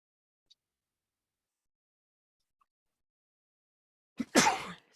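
A single sharp sneeze bursts out near the end, close and loud, following several seconds of near silence with a couple of tiny faint ticks.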